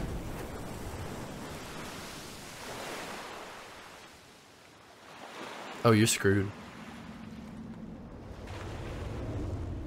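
Ocean waves from the fishing horror game Dredge wash in a steady broadband surf wash, rising and falling, with a voice speaking briefly over it and a short burst of louder sound near the middle.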